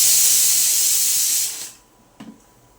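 Mustard seeds, urad dal and fenugreek tempering in hot sesame and coconut oil for a white kuzhambu give a loud, steady hiss that fades out after about a second and a half, followed by a faint short crackle.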